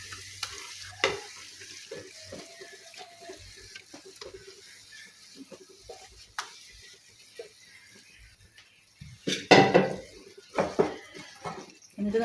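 Marinated chicken frying in a pan for chicken roast gives a soft, low sizzle, broken by clinks and scrapes of stirring and a louder burst of splattering and clatter near the end.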